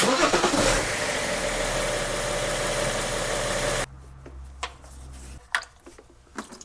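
A BMW X5 35d E70 diesel engine runs loud and steady for a few seconds, then drops to a quieter low idle hum with occasional clicks and knocks nearby.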